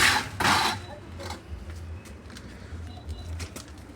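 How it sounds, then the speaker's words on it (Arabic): Shaqlabaz tumbler pigeons cooing in a repeated low pulsing rhythm, with a few louder rustling bursts near the start and steady background noise. "تعال نشوف الحمام اللي انت جبته جديد"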